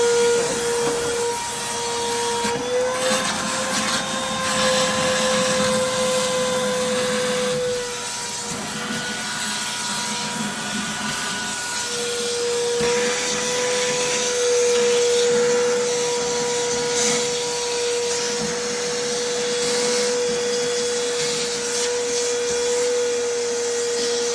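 A wet vacuum sucks water out of a tank, a steady loud droning roar with a constant whine and rough gurgling texture running the whole time, no voices over it.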